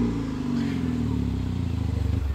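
A Hyundai Veloster Turbo engine idles and revs close by with a low, steady throb that pulses faster toward the end, while people talk over it.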